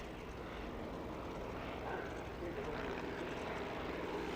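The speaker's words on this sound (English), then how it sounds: "the famous triplane of the Red Baron von Richthofen, but representing the aeroplane of his contemporary, Lieutenant Josef Karl Jacobs" A black replica of a WWI German triplane, painted in Lieutenant Josef Jacobs' colours, drones overhead at a 1997 British airshow, its propeller engine a steady, moderately distant hum over gusty wind and crowd noise.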